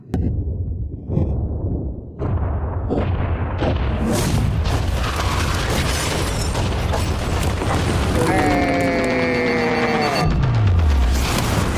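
A yacht being blown up: a loud boom followed by continuous roaring, crackling destruction and debris, with a rising tonal whine near the end.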